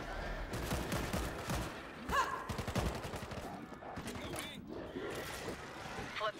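An explosion set off in the zombie shooter World War Z, New York level, rumbling among a dense barrage of gunfire and game noise, with players talking over it.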